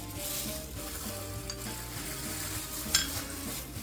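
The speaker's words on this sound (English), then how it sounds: "And I'm going to mix all of this together." Dry ingredients with cinnamon powder and nutmeg for a non-alcoholic Jamaican Christmas cake are stirred together in a bowl, a steady close rough scraping and rustling with one brief sharp clink near the end, no voices.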